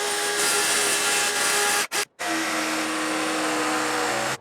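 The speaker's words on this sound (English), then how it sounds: "The jigsaw blade kept on bending and twisting." A jigsaw cuts plywood with a loud close buzzing roar, broken by a brief stop and restart, then running steadily on.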